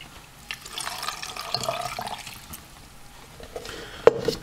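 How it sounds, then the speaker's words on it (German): Remaining water poured into a mixture while making fufu, a close steady splashing pour ending with a sharp clink, no speech. "So, restliche Wasser hinzu."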